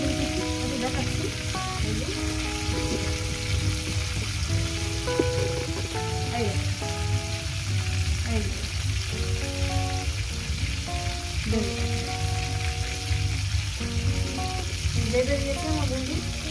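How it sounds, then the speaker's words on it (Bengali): Rohu fish pieces frying in oil, a continuous moderate sizzle with crackling pops and occasional stirring clinks throughout, no voice over it. "মাছগুলো আমার ভাজা হয়ে গেছে"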